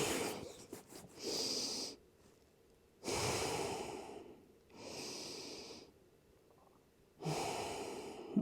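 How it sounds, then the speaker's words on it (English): Slow, deep breaths in a hatha yoga class come close and clear, four long airy exhalations spaced a couple of seconds apart with quiet pauses between them. "Inhaling 5 deep times"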